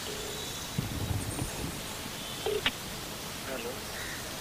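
Telephone keypad dialing tones during a news reporter's call to a police officer: a few short, scattered beeps over a noisy, hissing background.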